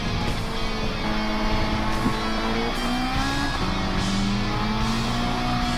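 All-wheel-drive race car in a Challenge Series race, engine droning loud and steady with rising gear-change tones and a sustained tire screech as it slips past an RX-7, no talk.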